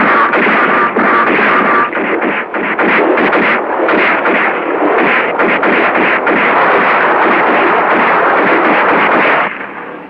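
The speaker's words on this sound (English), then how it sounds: "What was that, Mr. Braun? Gunshots." Animated-film gunfire from pursuers chasing a vehicle carrying a bomb crackles in loud, dense, rapid bursts for about nine seconds before cutting off.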